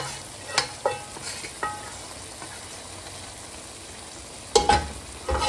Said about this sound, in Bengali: ঢেঁড়সগুলো প্রায় একদম ভাজা করেই ফেলেছে। আর কিছুক্ষণের জন্য এখানে কষাবে।